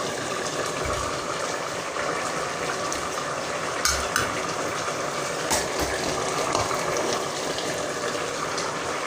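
Thick sauce for Central African nguiriki being ladled from a pot into a salad bowl, a steady wet sloshing and pouring wash with a couple of sharper clinks, close and continuous with no talk.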